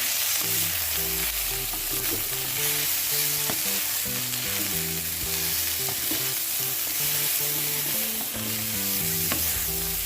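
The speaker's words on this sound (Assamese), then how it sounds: "আৰু কেঁচা জলকীয়া ভালদৰে মিক্স কৰি লওঁ।" Chicken with fresh green chillies sizzles steadily in a pan while being mixed, a loud continuous frying hiss with scraping stirs throughout; music plays underneath.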